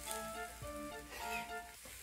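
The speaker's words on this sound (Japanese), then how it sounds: "炒めるで" Bean sprouts and Chinese noodles sizzle in a small, over-oiled frying pan, a soft continuous frying hiss with a few faint stirring clinks, quiet and without speech.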